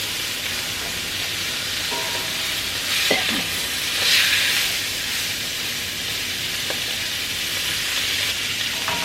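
A small pat of butter sizzles in a skillet, a steady close hiss of frying with a few faint clicks and bumps of utensils over it.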